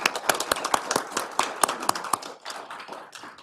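Applause for school board members at a board meeting: a room of people clapping steadily, with sharp overlapping hand claps that thin out and soften toward the end.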